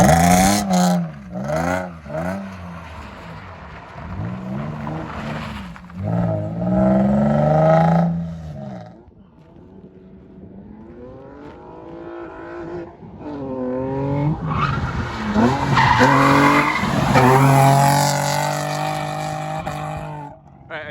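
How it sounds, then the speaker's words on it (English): A drift car accelerating hard with the engine revving up and down in repeated surges, rising and falling pitch and tire scrub as it slides, loud and fairly close. "This is my workhorse drift car."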